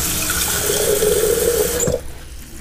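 Water pours steadily into a metal pressure cooker pot for about two seconds, its pitch rising slightly as the pot fills, then stops abruptly.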